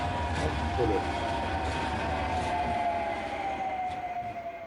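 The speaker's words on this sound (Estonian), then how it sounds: "kohe jõuab tramm ka kohale" A tram arrives at a stop in Tallinn with a steady rumble and a long, high, gradually falling wheel squeal, heard close at a busy street stop with background voices.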